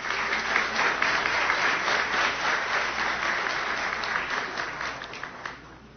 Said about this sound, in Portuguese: A esses vereadores integrantes desta legislatura pedimos uma salva de palmas.